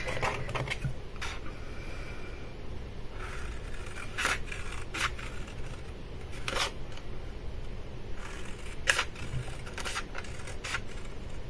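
Scissors cut cardboard for advent calendar boxes in a series of short, crisp snips scattered irregularly over a quiet, steady room background, with no talking.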